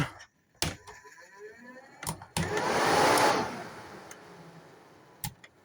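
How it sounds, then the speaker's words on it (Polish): An electric ceiling fan runs inside a Lunar caravan, a steady broadband whoosh that swells for a couple of seconds and then tapers off, with sharp clicks and knocks before and after. "do góry jeszcze jest wentylator"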